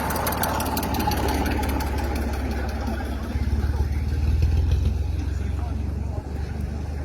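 A tractor engine idles nearby with a steady low, chugging throb that swells slightly louder midway, with voices audible over it.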